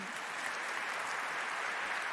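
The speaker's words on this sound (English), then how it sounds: "Clap for that, yeah." A Web Summit fireside chat audience applauds in a steady, dense wash of clapping heard from a distance, with no speech over it.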